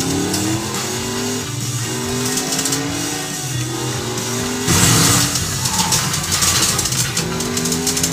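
Racing car engine in the FlatOut 2 video game revving hard with nitrous boost, a loud continuous rising and falling roar with gear-change sweeps, a sharp louder burst midway, and occasional tire squeal, no talking.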